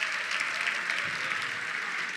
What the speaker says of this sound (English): Please, a nice round of applause in honor of them.